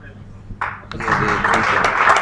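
An audience at a live gathering breaks into applause, clapping starting abruptly and swelling into a dense, sustained round.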